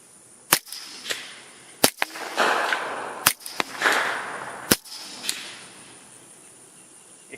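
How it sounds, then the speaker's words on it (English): A 9mm pistol fires suppressed shots through a Griffin Armament Optimus silencer, a string of sharp cracks with mechanical clacks from the action, irregularly spaced, some followed by brief hissing bursts, close by and without talk. "Most of the noise that you're hearing is really just related to the action of the pistol itself."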